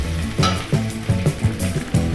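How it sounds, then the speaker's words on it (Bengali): Onion frying in hot oil, a busy crackling sizzle with rhythmic scraping strokes of a spatula stirring the pan, close and fairly loud. "তেল একটু গরম হয়ে গেলে পেঁয়াজটা প্রথমে দিয়ে দেবে।"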